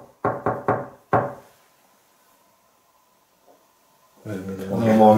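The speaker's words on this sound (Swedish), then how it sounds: "Är någon ska knacka bord efter mig då?" Four sharp knocks on a table in a quick, uneven series, loud and close, followed by near silence and then a person speaking.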